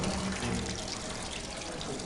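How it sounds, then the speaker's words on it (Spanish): Water boils inside a flask held at reduced pressure, giving a steady bubbling, gurgling hiss at an even level with no talk. "vemos la continuidad de la ebullición. Sigue hirviendo."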